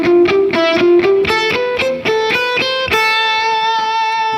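A distorted electric guitar plays a natural minor scale lick, a straight scale run passing from the third string to the second and first strings. Quick, evenly picked notes ring loud and close with no accompaniment.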